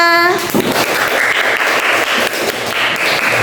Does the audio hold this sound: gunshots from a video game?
no